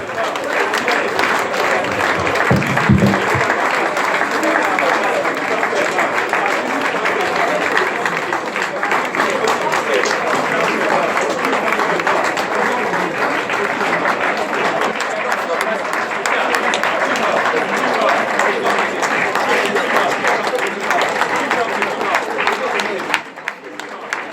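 A church congregation at a Sunday worship service applauds in a continuous, dense crackle of clapping that runs loud and unbroken, with voices mixed into the crowd noise.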